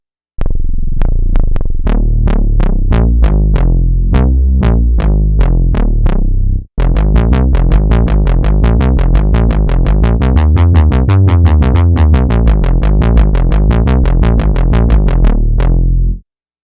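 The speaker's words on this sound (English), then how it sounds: "Now the brass does. This sounds very, very much like the MiniMoog." A Retro Machines MK2 synthesizer playing a MiniMoog-like brass patch, loud and alone, with a short run of bright plucked notes, a brief gap, then a longer passage of rapid repeated sequenced notes before a clean stop.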